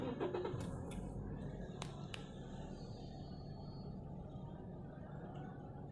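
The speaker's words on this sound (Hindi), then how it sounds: "तो देखते गाड़ी को स्टार्ट करते पहले।" A Toyota Altis with a check engine light and a cylinder 1 misfire (code P0301) cranks and starts, then settles into a low steady idle rumble, recorded close and fairly quiet.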